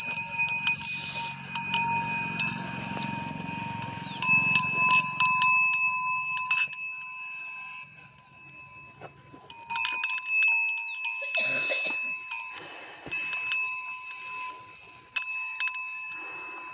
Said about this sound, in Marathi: तर मित्रांनो, ह्या घंट्या गळ्यात असल्यावर काय आहे, जरा वेगळंच वातावरण चेंज होते.